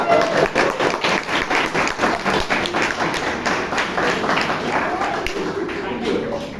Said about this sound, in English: keep clapping now. Standing ovation for the audience,